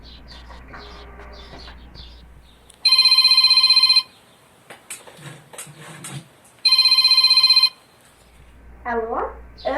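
Two bursts of an electronic telephone ringtone, each about a second long and spaced a few seconds apart, with talk before, between and after the rings and chickens or birds clucking in the background.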